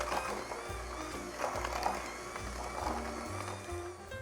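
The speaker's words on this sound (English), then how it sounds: "we're going to hit it with the mixer" An electric mixer whirs at a steady pitch with a slightly uneven, churning drone as flour is worked into almond cookie dough, close and continuous.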